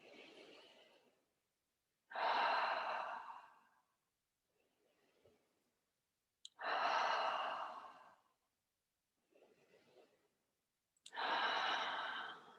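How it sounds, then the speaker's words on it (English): Slow guided breathing in a calm session, with long, loud airy exhales through the mouth alternating with quieter nasal inhales, repeating about three times in a steady rhythm. "In through your nose, out through your mouth. We'll start our circular breathing now."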